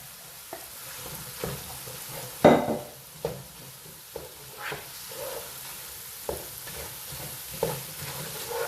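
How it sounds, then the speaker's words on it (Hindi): Minced lamb keema fries in a pan with a steady background sizzle, broken by a series of sharper stirring scrapes and clicks roughly every second, close up and with no talking. "कीमे को यहाँ अंदर थोड़ा कर लेते हैं, हम फ्राई कर लेते हैं इसके अंदर"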